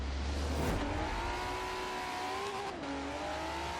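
A Honda NSX in Forza Horizon 4 revs hard toward redline, its engine note climbing steadily, easing back after a shift, then pulling up again, loud and continuous.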